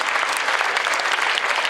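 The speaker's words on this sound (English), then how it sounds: "Round of applause for people who attended panels today." Audience at a cosplay contest in London, Ontario clapping together, a dense, even patter of many hands that holds steady and close for a brief moment.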